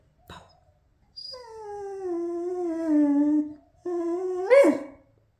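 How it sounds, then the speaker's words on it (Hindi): A small dog at a Holi celebration gives a sharp yip, then a drawn-out, rising and falling whining bark, breaks off briefly, and ends with a louder yelp, all close and clear with no talking. "ये देख लो कैसे चूहो जैसी बार्क है इनकी"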